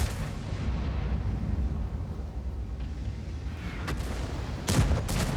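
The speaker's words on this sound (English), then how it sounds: "Artillery comes at me again." Distant artillery rumble in the tank game World of Tanks, a steady low thunder of bombardment with a sharper shell impact near the end, no voices heard.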